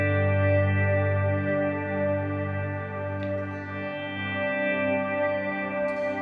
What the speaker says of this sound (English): Just play the chord with the volume off and then swell it on like that with the pedal